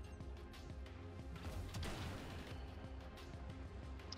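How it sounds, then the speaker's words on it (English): Naval missile fire in a warship video game, a ship launching a heavy volley: a dense, rumbling barrage of launches and impacts that swells to a peak midway, with steady low background din throughout. "Edson's firing missiles. He's just fired a shit ton on the head."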